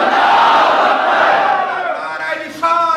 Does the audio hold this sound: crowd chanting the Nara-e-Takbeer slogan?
yes